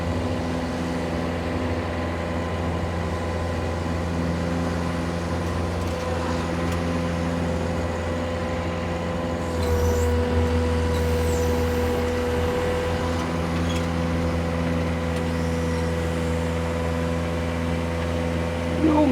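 A 1999 Bobcat 331 mini rubber-track excavator with hydraulic thumb runs at a steady, smooth idle nearby, a constant low engine drone with hydraulic hum and no talk over it.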